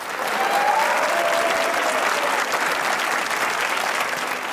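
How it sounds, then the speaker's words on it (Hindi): A studio audience at a comedy talk show claps in a full, continuous burst, loud and steady throughout with no voices over it. "तो तालियां बजाइए।"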